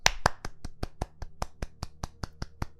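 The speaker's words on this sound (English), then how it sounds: "Round of applause." A small group claps in a slow, steady rhythm of about a dozen sharp, evenly spaced claps, close and distinct, with no talk over it.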